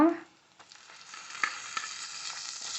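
Chicken for black pepper chicken fries in a pan with a soft, steady sizzle and a few light stirring clicks, close by. A short bit of voice opens the moment.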